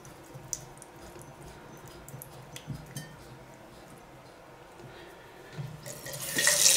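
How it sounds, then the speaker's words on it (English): Cold water runs from a bathroom basin tap of a Mildon basin set, a faint steady trickle with occasional small clinks, swelling louder toward the end, with no voices. "So cold water coming out."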